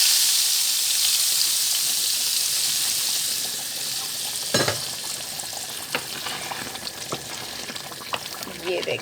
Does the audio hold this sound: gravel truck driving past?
no